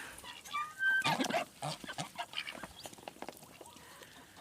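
Farm ducks splashing in a muddy puddle in a yard, giving faint scattered quacks and soft splashy rustling close by, with a louder cluster of calls early on.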